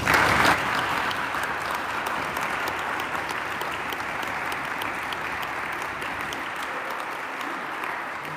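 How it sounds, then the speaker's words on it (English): An audience claps steadily for several seconds, a dense, even wash of applause that begins sharply and slowly eases off. "let's give Mike a round of applause"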